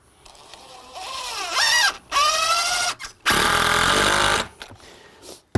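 Power drill driving a screw through a shim while a front door is installed: loud, close bursts of motor whine that rise and stutter in pitch, broken by short pauses and ending with a final long grinding run.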